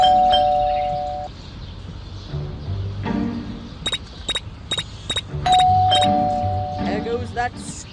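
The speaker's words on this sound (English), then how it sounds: "that stupid bell again." A doorbell rings in Scary Teacher 3D, a sustained electronic tone at the start and again later, alongside a run of sharp clicks and bumps, with a voice speaking over the second ring.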